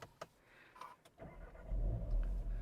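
A VW Golf GTI TCR with push-button start fires up, a brief starter whir followed by the engine catching and settling into a loud, steady low idle, close by with no talking.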